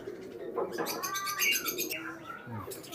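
Breeding pigeons in a farm loft coo and call in short bursts, with chirpy tones and a voice talking over them.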